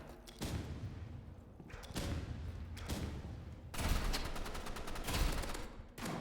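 Shotgun blasts in the Roblox game Rivals, a series of loud broadband bursts roughly every second, with heavier clustered shots near the end over a steady game background.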